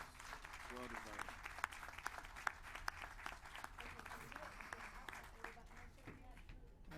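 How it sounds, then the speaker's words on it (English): An audience at an Atlanta city real estate announcement applauds, dense steady clapping from a crowd with a few sharper claps standing out, sustained for several seconds at moderate distance. "Everyone, please give her a warm round of applause."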